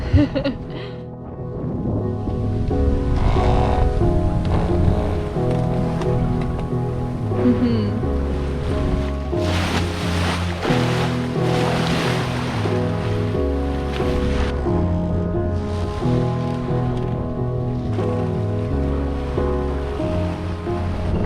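A sailboat under sail on a beam wind pushes through waves, with steady rushing water and wash along the hull and wind buffeting the microphone, continuous and fairly loud throughout.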